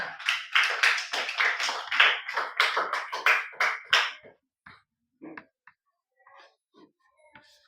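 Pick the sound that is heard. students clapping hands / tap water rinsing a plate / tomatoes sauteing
students clapping hands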